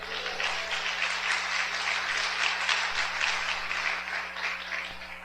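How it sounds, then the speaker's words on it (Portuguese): A church congregation applauds to glorify the Lord, a dense, even stream of clapping heard at some distance over a steady low electrical hum, sustained for over five seconds. "Quem pode glorificar o Senhor com a salva de palmas?"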